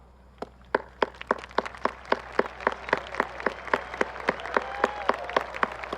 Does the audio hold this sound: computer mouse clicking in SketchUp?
no